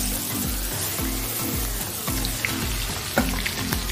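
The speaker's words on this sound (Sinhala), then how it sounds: "මම ලුණු බැදපු තෙල් එකේ මාළු ටිකක් බැද ගන්නවා." Fish fries in oil left from frying onions, with a dense, crackling sizzle like steady rain running throughout, close and moderately loud, with a few brief clinks.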